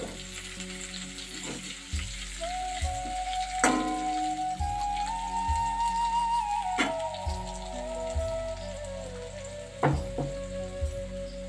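Food sizzling and frying steadily in a kadai (wok), with a continuous crackling hiss, occasional stirring scrapes and clinks close by, and no talking.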